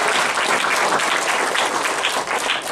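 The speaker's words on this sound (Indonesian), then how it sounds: "Tepuk tangan bagi Tuhan Yesus." Applause from a church congregation at a seminar service in Semarang, a dense, steady wash of many hands clapping close and loud for the whole stretch, with no talking over it.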